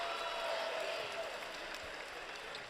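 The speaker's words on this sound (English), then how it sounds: "you can hear the crowds wanting to get into it" Steady crowd noise fills a college basketball arena during a Stony Brook versus Albany game, a continuous broad roar of fans that stays fairly even throughout, with no single loud burst of cheering.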